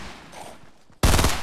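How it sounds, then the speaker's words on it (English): Gunfire in Fortnite bursts in suddenly and loudly as a rapid, dense volley after a stretch of quieter game ambience, continuing to the end. "Who is shooting it up?"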